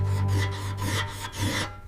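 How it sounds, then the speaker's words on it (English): Hand file rasping across the teeth of a toothed clock wheel, several quick back-and-forth strokes in rhythm, close and fairly loud, ending abruptly. "Teeth carved by hand, each angled deliberately, filed again and again to remove burrs."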